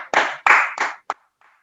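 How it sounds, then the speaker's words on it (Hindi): An audience at a commando-style training seminar gives a few loud, close bursts of hand clapping, three broad rounds followed by a single short clap, then quiet. "प्लीज आप खुद के लिए एक जोरदार ताली दे दीजिए।"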